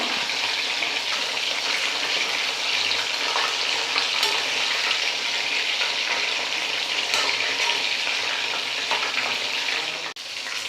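Masala-coated fish frying in a pan with a steady, loud, close sizzle that holds throughout, plus a brief clatter near the end as the fish is turned.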